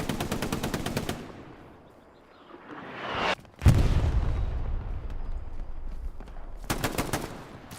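Gunfire in the World War II shooter Hell Let Loose, played competitively on Carentan Causeway: rapid machine-gun bursts at the start and end, with a sharp loud blast and rumbling aftermath in the middle.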